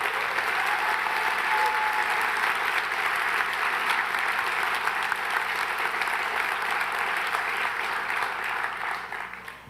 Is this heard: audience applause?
yes